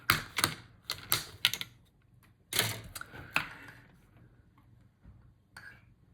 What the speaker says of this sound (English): Sometimes you have to wiggle this plastic to disconnect all the clips.